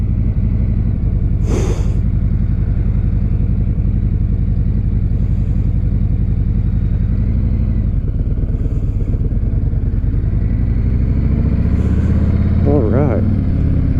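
A Harley-Davidson Sport Glide motorcycle rumbles steadily and loudly throughout while riding, a deep constant engine drone with brief clatter near the end, and no talk over it.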